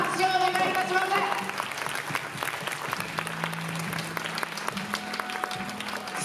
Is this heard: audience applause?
yes